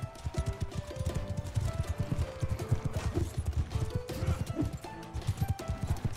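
Horse hooves clip-clopping in the video game Bannerlord, a rapid, continuous galloping patter close up, mixed with the clatter and din of a medieval battle.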